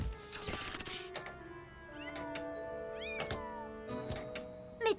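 A cartoon cat gives several short, bright meows in quick succession, mixed with light thumps and knocks, fairly close and clear with no speech over them.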